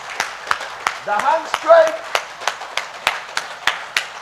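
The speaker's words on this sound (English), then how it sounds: "Now clap." A group claps in steady, evenly spaced beats, roughly one crisp clap every half second, at a symposium and delegation meeting, with a voice speaking briefly between the claps.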